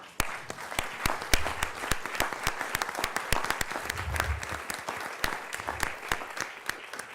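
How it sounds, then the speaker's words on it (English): Audience at a government agenda session clapping for staff, sparse sharp individual claps over a softer crowd of applause, with a brief murmur partway through. "let us give you a round of applause for all your hard work"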